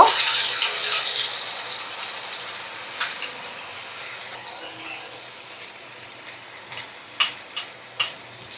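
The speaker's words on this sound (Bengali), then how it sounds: "বাটিটা ধুয়ে আমি জল দিয়ে দিলাম।" Water from a rinsed bowl goes into a pan of black mustard paste masala for a pomfret curry, a broadband wash of pouring and bubbling that fades under soft scattered stirring and spoon clinks.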